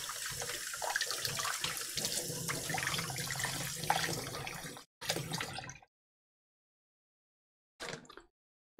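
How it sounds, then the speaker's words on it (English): Running tap water splashes steadily over herbs being rinsed in a kitchen sink, close and continuous for several seconds, then cuts off abruptly, followed by a short burst of water and silence. "Let's go rinse this"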